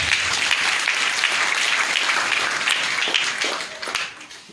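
Dense, steady applause from a church congregation, a thick wash of many hands clapping together, loud and close, holding for several seconds before starting to fade at the end.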